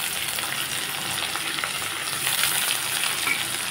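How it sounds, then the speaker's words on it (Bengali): Thin potato slices and onion fry in a pan with white cumin, a steady close sizzle and crackle that runs throughout. "পাতলা টুকরো করা আলুগুলোকে ব্রাউন কালার করে ভেজে নিলাম"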